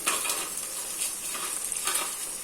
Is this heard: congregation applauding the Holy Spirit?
no